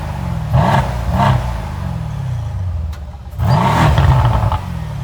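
A Mercedes C63S on its stock exhaust revs in two short blips, settles to a low idle, then gives a longer rev, with a deep, muffled engine note heard up close.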